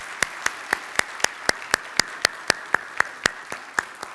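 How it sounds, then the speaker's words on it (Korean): A few people in a church congregation clap to welcome a newcomer at a Sunday worship service, a sparse, evenly spaced series of about seventeen distinct handclaps heard alone, fairly near and moderately loud. "박수로 환영하도록 하겠습니다."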